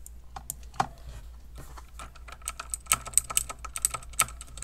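Computer keyboard keystrokes in quick irregular bursts, entering shortcuts while editing in Photoshop, crisp close clicks with sparse presses at first building to a denser rapid cluster toward the end.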